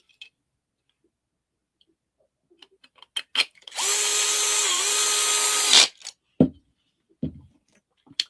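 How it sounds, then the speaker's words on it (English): DeWalt power drill running steadily for about two seconds with a brief dip in pitch, close and alone, framed by scattered small clicks and knocks from handling parts during a model kit build. "This DeWalt tool is a game changer."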